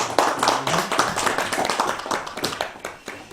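Church congregation applauding during a Korean Presbyterian Sunday worship service, a steady wash of many hands clapping together, fairly close and even in loudness throughout.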